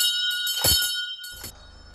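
A church bell rings with a bright metallic clang and lingering tone, then a second softer strike, briefly and alone.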